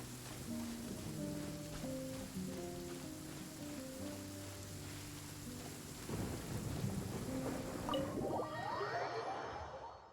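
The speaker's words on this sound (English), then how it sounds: "You don't want to be out in open country in this kind of weather. You'll get struck by lightning for sure." Thunderstorm weather in the video game Genshin Impact: steady rain hisses across open country while low thunder rumbles roll in, swelling louder toward the end, with no talking.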